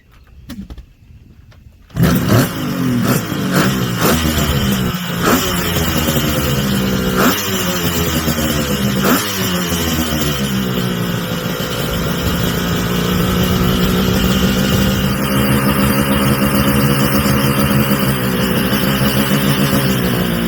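A Kawasaki S2 two-stroke motorcycle fitted with a new digital ignition kicks over and fires after a quiet moment, then runs loudly and steadily close by, blipping the throttle a few times before settling into a constant idle.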